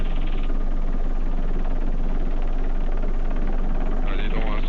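A small ultralight aircraft engine, sputtering short of fuel, drones loudly and continuously, a steady buzzing hum throughout with no pauses.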